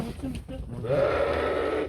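Sheep bleat over and over, the strained calls rising in the second half, with people talking nearby.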